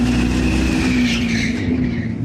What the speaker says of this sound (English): And while the sounds and smell of tires burning rubber are real,